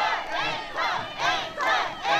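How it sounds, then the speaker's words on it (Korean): An audience at an outdoor pop-opera concert at a ski resort in Jeongseon, Korea, rehearses an encore with loud, massed shouting and cheering that swells in repeated waves, with clapping mixed in. "약 5초간의 함성과 박수로 한번 연습하고 갈게요"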